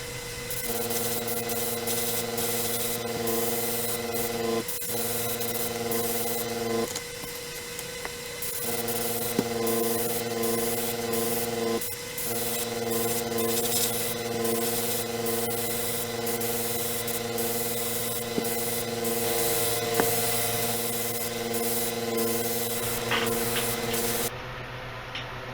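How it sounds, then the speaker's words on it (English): An airbrush hisses steadily as brown paint is sprayed onto a model space shuttle orbiter, a continuous close airy spray with a faint motor hum, broken by a few short pauses where the trigger is released. "I'm going to go ahead and spray that on."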